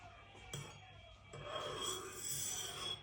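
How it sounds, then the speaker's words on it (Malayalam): Beaten eggs being mixed in a bowl for a quiche: a close, soft rasping and scraping of a utensil against the bowl, with a couple of light knocks at the start, then continuous rubbing strokes. "ഞാൻ ഇങ്ങനെ കലക്കുവാണ്."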